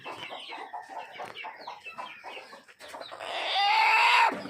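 A hen at a poultry farm, brooding on eggs in a clay pot, clucks in a steady run of short calls, then lets out a louder, drawn-out squawk near the end, close and clear.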